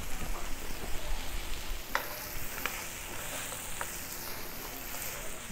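Cooked black-eyed peas frying in bottled butter for baião de dois, a steady close hiss and crackle with faint utensil taps now and then.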